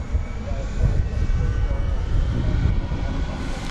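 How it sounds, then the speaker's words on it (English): An Airbus A380 airliner rumbles at DFW Airport at night, a deep, loud engine roar with low pulsing throb, while a voice talks over it. "That is an Airbus A380 going to Chicago Rockford International Airport, flight 755"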